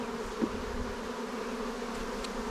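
A steady, close drone of honey bees fills the air around a newly installed hive box, humming continuously without a break.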